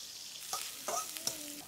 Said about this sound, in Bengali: শোল মাছ ভুনা করার জন্য মশলাটাকে ভালোভাবে কষাই